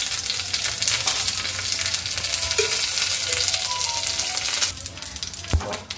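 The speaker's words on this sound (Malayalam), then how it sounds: "ഇനി കുറച്ച് കറിവേപ്പിലയും കൂടെ." Curry leaves and dried red chillies fry with mustard seeds in hot coconut oil, a dense, close sizzle with scattered crackles and pops that settles slightly before a sharp metallic clink near the end.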